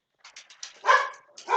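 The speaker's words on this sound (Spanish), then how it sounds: "mi perro por ahí se pone loco" A pet dog barking indoors in a home, a quick burst of sharp, close yips and barks that rises into a louder bark near the end, heard alone without talking.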